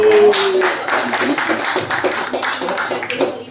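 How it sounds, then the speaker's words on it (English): Clapping from a small gathering at an event, a loose, uneven patter of hands beating close by at moderate volume, with a voice briefly audible at the start. "Round of applause for Philip, everybody."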